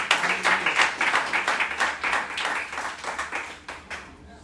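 A church congregation claps in a fairly quick, uneven rhythm, with close, distinct hand claps merging into applause for about four seconds before fading.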